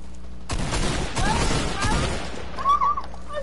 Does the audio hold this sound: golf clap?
no